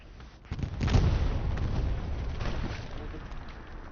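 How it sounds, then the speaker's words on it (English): A deep, booming explosion goes off during a competitive video game match. It hits hard after a quiet moment, then rumbles and slowly decays over several seconds. "There's some explosion over here"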